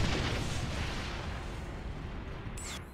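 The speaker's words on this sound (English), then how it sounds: "Love explosions." A deep, rumbling boom of a video game explosion rolls out and slowly fades, with a short electronic chirp near the end.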